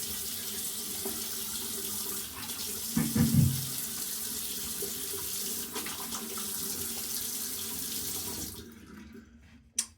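Tap water runs steadily into a sink while a face is rinsed after a shave with a Yaqi Telstar stainless razor, splashing briefly near the start before the flow cuts off at the end.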